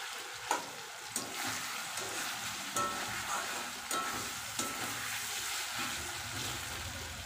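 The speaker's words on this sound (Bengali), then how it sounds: "মশলাটা ভালো করে কষিয়ে নিলাম," Spice masala fries in oil in a pan, a soft low sizzle broken by periodic spatula knocks and scrapes every second or so, fairly quiet and close.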